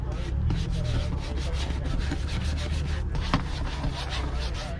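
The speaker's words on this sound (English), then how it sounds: "So I'm just rubbing it into the cracks mostly." Leather dye rubbed by hand into cracks in the worn seat of a 200,000-mile Saab 9-5 Aero, giving a continuous close scrubbing and rubbing texture with fast repeated strokes and no talking.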